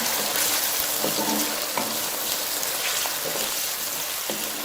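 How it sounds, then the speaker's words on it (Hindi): Chopped tomatoes frying in a pot for Kabuli pulao, a dense loud sizzle with occasional soft knocks of a spoon stirring. "इसके बाद अब मैं टमाटर ऐड करती हूँ। और अब इसको भी मिक्स कर लेते हैं।"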